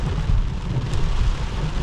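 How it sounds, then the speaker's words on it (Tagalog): Heavy rain pours down steadily at an outdoor food festival in Toronto, a dense, loud, continuous hiss and patter with no voices. "Malakas yung ulan, no?"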